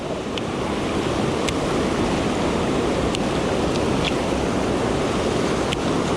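Fast, shallow water rushes steadily at a fishing spot, a loud, unbroken broadband roar close to the microphone, with a few faint ticks on top and no voices.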